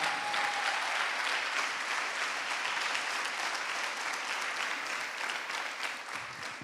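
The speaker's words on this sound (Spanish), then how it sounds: "Dele un aplauso al Señor." A church congregation applauds the Lord at a sermon, a broad sustained roar of clapping from many hands that holds steady and loud, then tapers slightly near the end.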